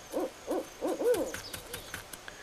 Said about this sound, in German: Das klang nach einer Eule.